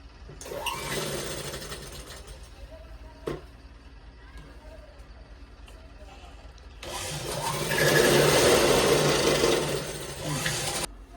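A sewing machine stitches old sarees together into a layered godhadi quilt. Soft mechanical whirring and rubbing run through the clip, then a louder, busier burst of stitching comes near the end.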